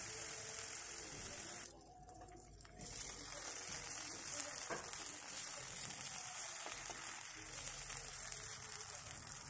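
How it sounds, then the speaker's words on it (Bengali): Masala-coated fish frying slowly over low heat in a little oil, with a quiet, steady sizzle that drops out briefly and returns, and soft background sounds around it. "অল্প তেলে আর কম আঁচে ধীরে ধীরে এটাকে সেঁকে সেঁকে ভেজে নিতে হবে।"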